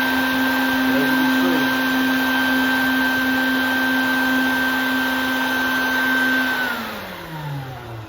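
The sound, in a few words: Bucket Head vacuum running, shop vac on bucket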